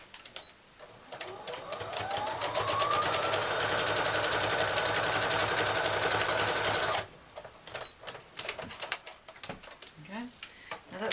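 A sewing machine stitching a Santa cushion hat runs in a steady rapid whir for about five seconds, close and clear, then stops as someone talks.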